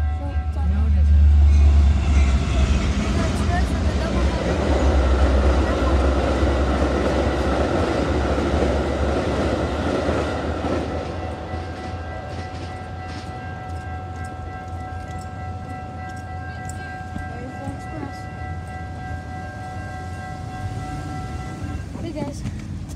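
An outbound train passes nearby at Edgebrook with a heavy low rumble and rattling cars that gradually fade, leaving steady mechanical hum and squealing tones; someone speaks briefly.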